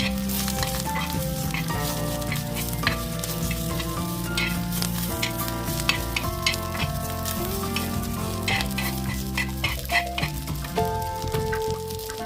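Tamarind, asafoetida and cumin frying in a pan on the stove, a steady dense sizzle with occasional stirring clicks running throughout, close, with music playing underneath.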